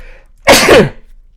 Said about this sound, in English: So I ain't going to stifle a sneeze.